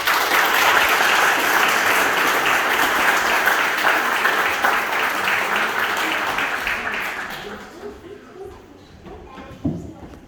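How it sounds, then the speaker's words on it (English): A crowd at a Fisherville Day 2022 community recognition event breaks into loud, dense applause lasting several seconds, then thins out and fades away with a few stray claps. "Let's give a round of applause."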